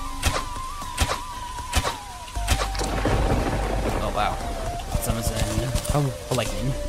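Summoned lightning in Terraria brings repeated sharp thunder cracks and rumbling, game storm effects mixed under a person talking throughout.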